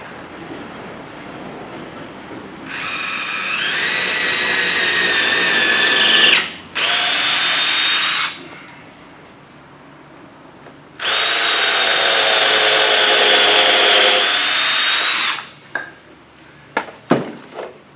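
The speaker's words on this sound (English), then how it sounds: "I'll drill it before I go." A power drill whirs loudly in two long bursts, near and steady with pitch shifts as it bites into wood during wooden boat deck repair, followed by a few sharp knocks.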